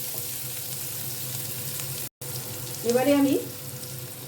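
Small-chopped onions fry in a pan with a low, steady sizzle, interrupted by a momentary dropout, while a voice speaks briefly over the frying toward the end.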